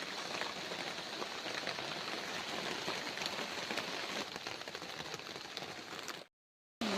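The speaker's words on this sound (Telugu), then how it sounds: "బయట వర్షం అయితే మాత్రం చాలా ఎక్కువ వస్తుంది" Heavy rain pours steadily outside in Maredumilli forest, a dense, even hiss of falling water close by that holds constant before cutting off abruptly near the end.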